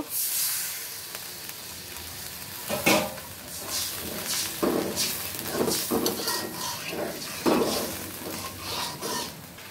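Water poured into a pan of spiced fried eggs for egg bhuna sets off a loud steamy hiss and sizzle, with a few sharp bursts and clinks of pan and utensil over about ten seconds, no talking.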